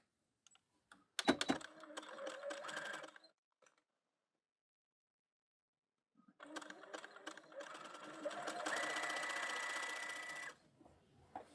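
Close, rapid buzzing bursts of a sewing machine sewing a narrow zigzag stitch that attaches elastic to a stretch lace bra, two runs separated by a silent pause.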